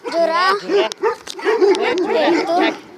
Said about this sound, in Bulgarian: Малко кученце.